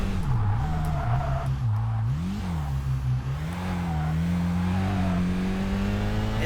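Racing car engine in the video game Kaido Racer 2, a loud sustained drone that rises and dips as the car revs and shifts through corners on a downhill run, with no talk over it.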